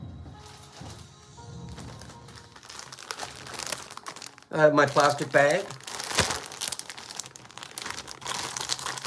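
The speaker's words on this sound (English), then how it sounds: "I have my plastic bag." A plastic bag crinkles loudly in a short, close burst while a baking pan fresh from the oven is slipped inside, with a person speaking before and after.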